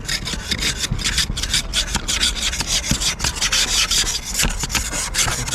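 Scrubbing and rubbing against a surface during the start of the cold season in Canada: steady, rhythmic scraping strokes repeat quickly and closely throughout, fairly loud and without any talk.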